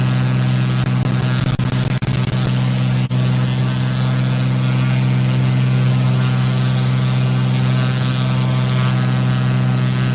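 A Cessna propeller plane in flight in Microsoft Flight Simulator near Sydney Harbour, a loud steady engine drone with a constant pitch that continues without a break, heard alone.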